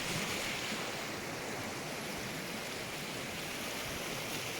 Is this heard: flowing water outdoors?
yes